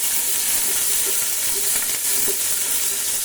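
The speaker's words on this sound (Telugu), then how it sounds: "ఫస్ట్ పచ్చిమిరపకాయ ఒక 1 minute ఫ్రై చేయాలి." Green chillies fry in hot oil for vegetable fried rice, giving a steady loud sizzle with small crackling pops throughout and no voices.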